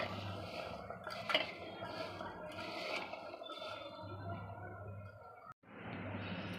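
Kerda pickle stirred with salt and turmeric in a pot, heard as soft scraping and a few clinks of a utensil on metal over a low background hum, close and quiet, ending in a brief cut.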